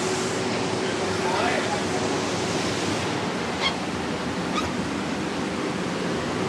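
A log ride boat at Aussie World drops down The Plunge into water, producing a steady, loud rush of splashing and surging water with a brief harder burst of spray partway through, close up throughout.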